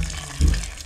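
Water poured into a cooking pot of cut chicken pieces in a home kitchen, a short gushing splash that swells briefly midway and trails off, close and fairly loud with no talk over it.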